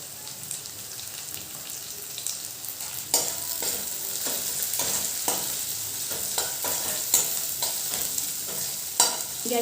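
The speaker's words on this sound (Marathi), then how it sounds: "बेसनला फोडणी खूप महत्वाची असते चांगली आपला कांदा सुद्धा शेकतोय तर आपण त्याच्यामध्ये मिरची ॲड करूया" Onion and green chili sizzle in hot oil tempering for besan pithla, a continuous close frying crackle with irregular stirring scrapes and clinks, and no talking.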